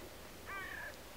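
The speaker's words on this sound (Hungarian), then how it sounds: "Egyfajta varjú hangot hallok." A single crow gives one short, harsh caw, faint and distant against quiet outdoor background noise.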